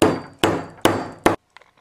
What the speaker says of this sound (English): Now use the hammer to hammer one closed to where the hole is fairly open still